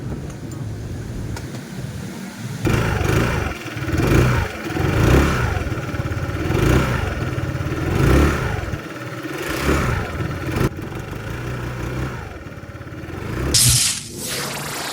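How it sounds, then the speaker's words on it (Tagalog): Engine of a Hunter 150 adventure touring scooter running close by, idling with repeated throttle blips that swell and fade in a steady rhythm, then a brief sharper rev near the end. "Meron din naman tayong pa-sound check guys sa motor na ito, pakinggan ng mabuti."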